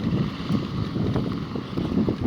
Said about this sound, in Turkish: Rüzgar yine yüzüme vuruyor.